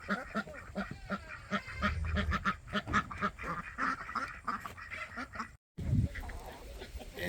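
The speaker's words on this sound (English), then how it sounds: "We've added some ducks since the last time we've done chores." Ducks on a farm quacking in a busy, overlapping chorus close by, loud honking calls repeating throughout with a brief break near the end.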